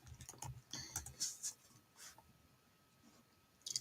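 Quiet, irregular keystrokes on a computer keyboard, a few quick taps then scattered single clicks over a hushed background.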